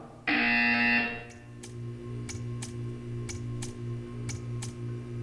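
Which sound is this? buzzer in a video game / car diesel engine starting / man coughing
buzzer in a video game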